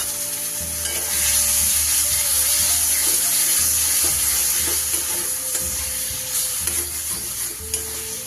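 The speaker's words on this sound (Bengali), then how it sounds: "আমি মশলার পেস্টটা দিয়ে দিলাম।" Spice paste frying in a pan for a hilsa curry with cauliflower and potato, a loud steady sizzle broken by repeated scraping stirs and a few small clinks.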